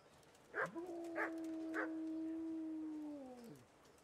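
Dog in the video game Kingdom Come: Deliverance giving three short yips followed by a long, drawn-out whining howl that fades away, moderately quiet with no talk over it.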